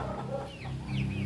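An old hen clucks softly in a few short, low calls, close and fairly quiet against a faint background.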